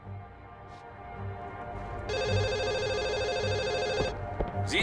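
In The Assembly, a telephone's bell ring buzzes steadily for about two seconds, clear and fairly close, over a quiet room with a low pulsing hum, then cuts off with soft clicks after it.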